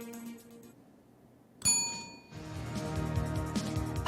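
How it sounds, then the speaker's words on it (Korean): A single bright bell chime strikes sharply after a quiet stretch and rings out briefly, giving way to a busier rumbling background on a broadcast market briefing. "벨이 울렸어요"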